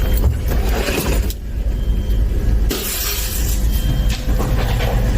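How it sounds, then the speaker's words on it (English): A window is smashed: a sudden crash of shattering glass bursts out over steady road traffic and car engine noise, close and loud. "And you just smashed a window?"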